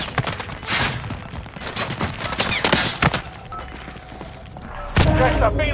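Rapid bursts of gunfire and booming explosions in the Warzone video game, loud and close, mixed with game voice callouts and player chatter throughout.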